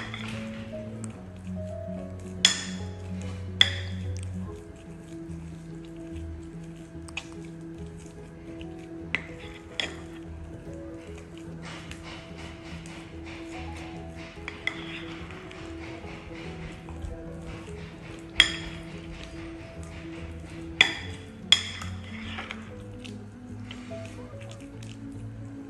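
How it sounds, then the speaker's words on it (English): Peanut butter is stirred in a pot for domoda soup, giving soft wet squishing and occasional sharp clinks of the spoon against the metal, close and quiet, with a low hum underneath. "Now the peanut butter is mixed well and smooth."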